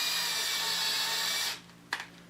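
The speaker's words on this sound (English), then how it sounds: "So I'm running the drill backwards, and so it doesn't grab" A power drill runs in reverse, boring out varnish-clogged tuner holes in a mahogany guitar headstock; a steady whirring grind lasts about a second and a half, then cuts off, followed by a sharp tap.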